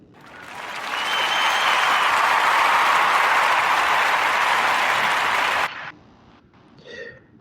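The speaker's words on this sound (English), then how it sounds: "Give a warm round of applause to Denise Butler and the Cocoa Cuties brand." Warm audience applause swells within the first second into a loud, dense wash of clapping, holds steady for several seconds, then cuts off abruptly and leaves only faint trailing sounds.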